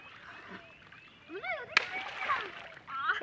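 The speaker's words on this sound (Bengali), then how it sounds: "এই দেখো এরা কি মজা নিয়ে স্নান করছে" Children splashing and playing in water while bathing in a drain outdoors, with short bursts of splashes, a sharp slap near the middle, and excited young voices shouting throughout.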